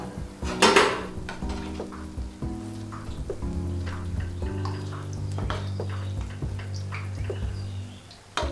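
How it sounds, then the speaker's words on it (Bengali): Pakoras for kadhi fry in hot oil with a continuous rain-like crackle, joined by clinks and scrapes of a utensil against the pan, close and moderately quiet, with no talking. "সমস্ত পকোড়াগুলো ভেজে নিচ্ছি।"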